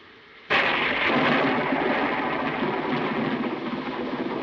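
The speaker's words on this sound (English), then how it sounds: "I love thunderstorms, don't you?" Thunder from a thunderstorm hits suddenly and then rolls on loud and steady, a broad rumble with no voices over it.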